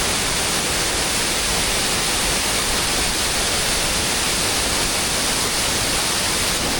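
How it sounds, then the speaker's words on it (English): A Scottish Highlands waterfall roars up close as a loud, steady, unbroken rush of water that fills the whole clip. "But what a spectacular waterfall."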